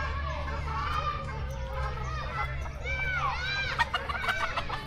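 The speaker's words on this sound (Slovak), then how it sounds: "Toto musí byť najmenší kohút na svete." A tiny rooster crows and clucks in a bird-filled setting in Iran, its sharp calls rising over a steady low hum, with other birds chirping nearby and faint background voices.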